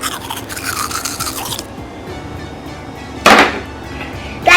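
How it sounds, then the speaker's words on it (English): A Magic Mixies toy toothbrush scrubs with a steady, close rasping, then a couple of sharp, loud brushing bursts follow. "That toothbrush was really smashy"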